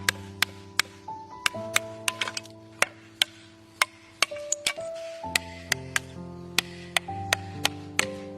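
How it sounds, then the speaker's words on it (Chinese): Sharp, light taps as excess slate is knocked off the cut edges of a roof tile, irregular but steady, a couple per second, close and crisp, with no talking. "然后沿着切割的边缘，轻轻地将多余的敲打下来"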